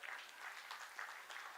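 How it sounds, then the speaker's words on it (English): Audience applause fills a conference hall at a pension supervisors' meeting in Africa, a steady, fairly faint patter of many clapping hands that swells slightly in places. "you can clap for that for Mazima"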